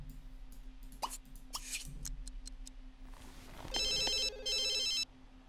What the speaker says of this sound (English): Phone is calling.